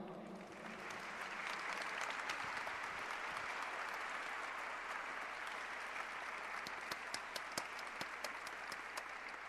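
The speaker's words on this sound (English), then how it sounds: "Can you tell us what you think with a round of applause again?" Students at a living history program give a sustained round of applause, a broad, even wash of many hands clapping at a fair distance, with a few sharper close claps near the end.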